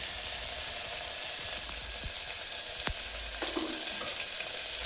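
Chopped onions with mustard seeds and cumin frying in hot oil, a steady close broadband sizzle with occasional sharp crackles and pops throughout, no voices.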